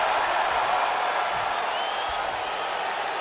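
Steady crowd noise from a WWE 2K20 wrestling match between Rey Mysterio and Eddie Guerrero, a continuous roar of cheering and applause filling the arena at an even, fairly loud level throughout.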